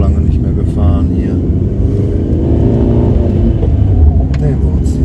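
A car cruising along a country road on Madeira gives a steady, loud engine and road rumble beneath ongoing conversation between people inside.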